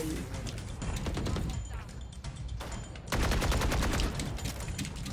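Rapid automatic gunfire from a ranked Valorant match crackles in dense bursts, easing off briefly before a louder sustained volley, with a voice talking faintly underneath.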